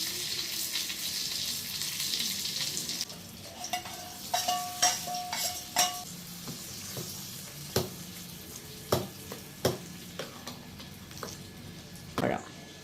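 Boiling water is poured over soaked aval (poha) seasoned with curry leaves and a pinch of asafoetida, giving a hissing, sizzling rush for a few seconds, followed by scattered clinks of a utensil stirring in the pan.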